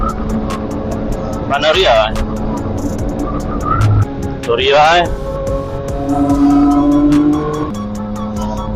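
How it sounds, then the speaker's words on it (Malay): Heavy Chinese New Year traffic on the road to Genting Highlands, Malaysia, car engines and tyres rumbling past close by while a rider on a CFMOTO 675SR talks over it. "Banyak kereta lah."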